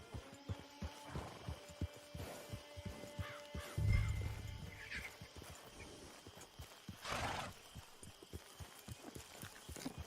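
A horse in Red Dead Online walks with steady clip-clop hoofbeats and gives one brief whinny partway through, along with some faint crow caws and no talking.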